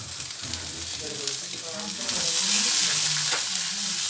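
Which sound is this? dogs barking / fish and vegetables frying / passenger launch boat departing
fish and vegetables frying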